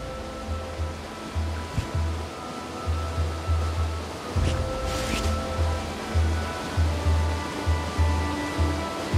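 Surf on the shore at the seaside in the Jolly Rover game, a loud rolling wash with a steady repeating low pulse under it and no voices.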